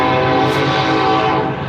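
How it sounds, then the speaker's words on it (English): A train roars past close by with a loud, sustained horn blast, heavy rumbling wheels underneath, steady and overpowering throughout. "Sorry about the train."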